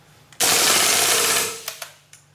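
Full-auto burst from a KWA KRISS Vector airsoft gun on gas: one sustained, loud buzzing rattle of rapid BB shots lasting about a second, then a few short trailing pops, close to the mic with no voices.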